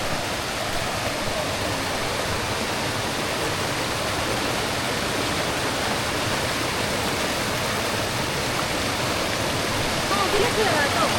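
Constant roaring rush of a waterfall, loud and unbroken throughout, with no pauses or other sounds standing out.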